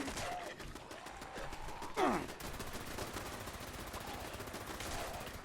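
Automated turret gunfire in Fallout 76, a steady stream of rapid shots rattling throughout with one louder burst partway, mixed with game ambience.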